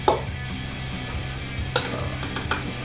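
Ingredients with Chinese five-spice being stirred in a pan for thrice cooked pork: soft sizzling under a few distinct scraping clinks of a utensil against the pan, close and brief.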